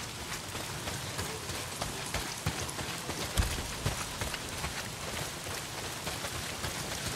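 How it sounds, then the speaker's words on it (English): Heavy rain pouring in the video game Days Gone, a dense continuous hiss of drops on surfaces with occasional louder splashes, steady and close throughout. "Well, not if it's pissing down rain."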